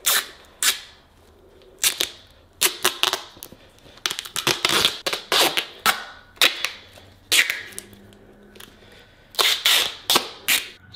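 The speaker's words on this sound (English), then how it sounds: "this is how you want to tape it." Athletic tape being pulled off the roll and wrapped around a cheer shoe, a series of sharp ripping and crackling bursts in an irregular rhythm, close and loud with no talking.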